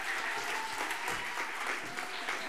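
Steady, dense audience applause fills a book gala hall in Andalusia, continuous and full throughout without pause.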